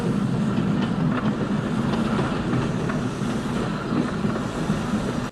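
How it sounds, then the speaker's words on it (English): A train from the film The Bridge on the River Kwai rolls past close by, a steady loud rumble with a rhythmic clickety-clack of wheels on rails that holds the whole time, with no voices. "We'll get a close-up of a train going by."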